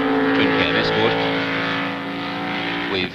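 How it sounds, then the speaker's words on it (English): Touring race cars from a 1971 improved production event, including a Ford Escort twin cam, roar past with strong engine harmonics that rise and then fade, while a commentator talks over them throughout. "Now here's the next car coming through, the next group of cars"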